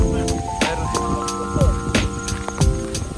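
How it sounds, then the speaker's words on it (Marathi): Rain falls during a monsoon outing to a hilltop temple, a steady loud hiss with a constant tonal hum running underneath. "पाऊस चालू आहे"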